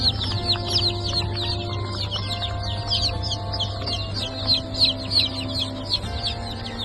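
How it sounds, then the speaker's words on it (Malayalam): Native Thalassery chicks in a hatchery peep in rapid, high, overlapping bursts, a busy continuous chorus over a steady low machine hum with occasional tonal beeps. "ഇവയെല്ലാം തനി നാടൻ തലശ്ശേരി കോഴിക്കുഞ്ഞുങ്ങളാണ്"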